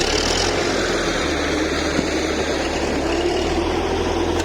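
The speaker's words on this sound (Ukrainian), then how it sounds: "Це от у нас комунальний трактор." A municipal tractor engine drones with a low, even rumble throughout, idling or running nearby without any speech.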